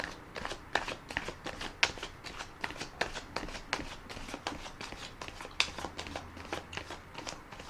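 A deck of tarot cards being riffle shuffled by hand, a quick series of crisp, flapping bursts repeating close up at a steady pace with no talk.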